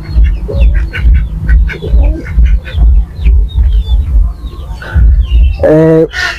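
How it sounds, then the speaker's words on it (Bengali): Ducks and chickens call from a close backyard flock, a loud run of rhythmic clucks and quacks, ending in a louder nasal burst, with a voice speaking briefly among them. "হাঁস মুরগিও আছে, ডাকতেছে"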